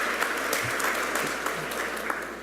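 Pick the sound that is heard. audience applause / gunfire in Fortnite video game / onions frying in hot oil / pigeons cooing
audience applause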